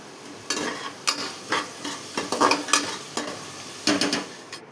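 Onions and two green chillies sautéing in a pan for kushka biryani, a continuous sizzle broken by repeated scraping strokes of a spoon stirring at an uneven rhythm, close and fairly loud.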